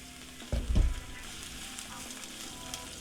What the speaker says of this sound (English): these are some sweet Vidalia onions and some red peppers that we're just going to saute up in here